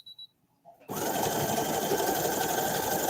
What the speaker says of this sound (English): we're almost finished sewing this first part